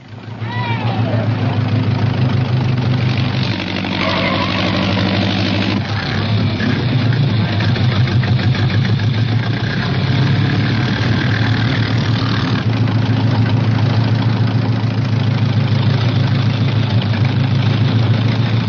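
Early 1900s Mercedes racing car engines roar loud and continuous, a thick low drone that shifts pitch as the cars pass, with a voice talking over it.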